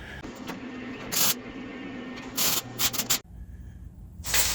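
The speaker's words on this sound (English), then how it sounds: "So let's go ahead and get that welded up." A car frame rail is welded in several short bursts of harsh crackling hiss, loud and close, with quieter shop noise in the gaps.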